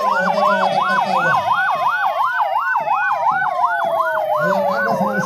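Ambulance squad siren wailing in a steady, rapid up-and-down rise and fall at a Republic Day parade at a police lines ground in Firozabad, loud and close, with a low vehicle engine rumble beneath.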